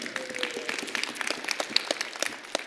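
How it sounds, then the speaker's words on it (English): Applause from a conference session audience, a short patter of scattered claps at moderate distance, fairly light and uneven, with no talking over it. "So give yourself a round of applause for coming here."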